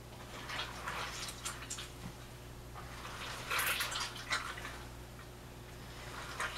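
Tap water runs steadily over hands being rinsed in a home kitchen while pork sliders are prepared, a continuous close splashing hiss with small surges and no talking.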